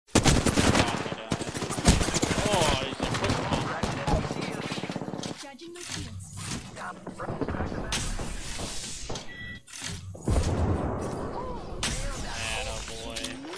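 Rapid automatic gunfire and shots in an Apex Legends battle, loud and dense throughout, with players talking over the fighting.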